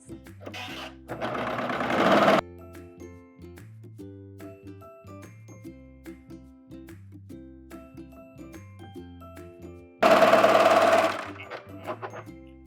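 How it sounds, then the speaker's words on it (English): A serger overlock machine sews the seams of a tank top in two loud, rapid bursts, each lasting about a second, with quiet music in between. "So I'm gonna serge the shoulders together."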